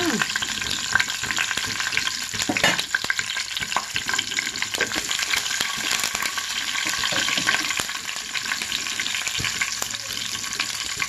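Curry leaves and asafoetida sizzle and crackle in hot oil as a tempering, a steady close frying hiss with occasional stirring clatter, and no one speaks.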